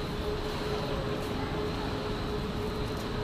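Steady rumble inside a moving MRT train in Manila, a continuous low roar with a faint tonal whine holding evenly throughout, close and fairly loud with no speech over it.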